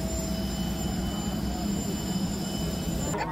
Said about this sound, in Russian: Летим на таком маленьком самолетике.